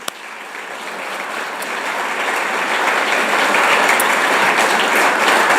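An audience applauds donor Ken Nunn at a groundbreaking for an Assembly Hall renovation, a dense, steady wash of many hands clapping that swells slightly louder over several seconds, with no talk on top.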